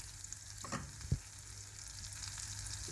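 Butter melts in a pan as the start of a roux for nettle soup, giving a constant low sizzle with a couple of brief knocks of a utensil against the pan.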